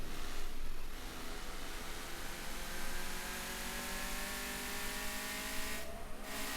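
Peugeot 206 engine revving up in the Car Parking Multiplayer 2 driving game, set on a city map, a steady loud whirring drone that holds throughout with no talk.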